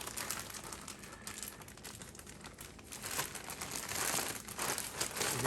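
Plastic bag crinkling steadily and fairly close while three cups of sour cream are spooned into it for a Mexican lasagna, a continuous rustle that grows a little louder toward the end, with no talking.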